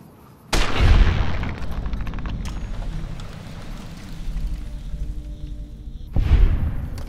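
Gunfire from the video game Fallout: New Vegas, with two loud shots about six seconds apart, each followed by a long rumbling tail of echo and ambient game noise.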